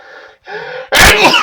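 One loud sneeze, preceded by two short indrawn breaths, close to the listener.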